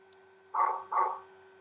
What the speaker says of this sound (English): when you hear the puppy bark,